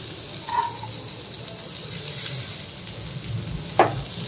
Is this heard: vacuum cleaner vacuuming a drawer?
no